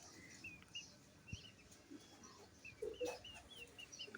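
Native hens trying to lay eggs cluck softly and intermittently in a quiet yard, with a few louder calls standing out near the end.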